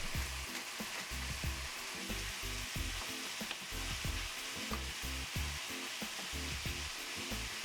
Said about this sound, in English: Once we get a nice brown going on after we season our ground beef